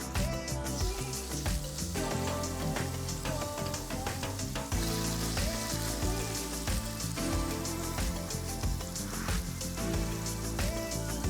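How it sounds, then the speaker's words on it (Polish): Cauliflower, chicken and mozzarella patties fry in hot fat, giving a steady crackling sizzle with scattered pops, heard alone without talk. "teraz łyżką będę nakładać takie kotleciki i będę je smażyć narumiano z obu stron."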